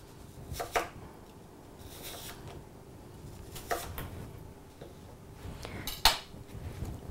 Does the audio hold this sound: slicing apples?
yes